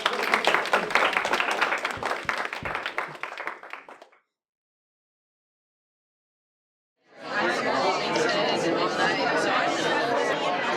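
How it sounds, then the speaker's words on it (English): A seminar audience claps and cheers loudly for several seconds, then falls silent before a second burst of dense applause rises and continues. "let's give them a round of applause"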